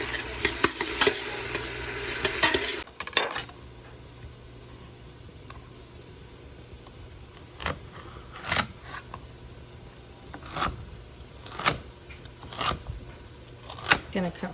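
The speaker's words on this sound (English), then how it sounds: "I'm gonna add just a little bit of wine, not a lot." Liquid splashes into a hot pan of beef stew with wine and Worcestershire sauce, giving a loud sizzle for about three seconds, then quieter stirring with a few sharp scrapes and clinks.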